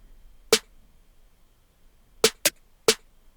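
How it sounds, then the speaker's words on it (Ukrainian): Four sharp accent snare hits from a trap beat, isolated and punchy, with a single hit, a long gap, then a quick pair and one more hit. "це акцентні снейри, які звучать ось так от"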